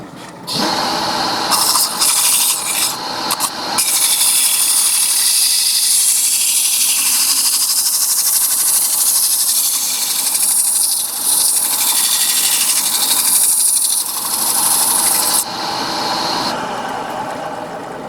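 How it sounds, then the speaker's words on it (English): Sandpaper working the inside of a wooden piece, progressing through grits from 120 toward 400, produces a loud, continuous, close hiss that runs almost unbroken, with brief rough scrapes near the start and no talking. "I've sanded the inside down to 320"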